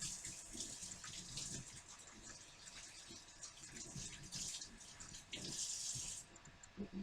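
Tap water runs steadily into a kitchen sink during hand washing, a soft continuous hiss and splash with small surges as hands move under the stream, quiet and close.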